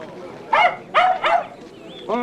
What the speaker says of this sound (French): Oh, ce qu'il est mignon, votre petit chien, Madame Paulette.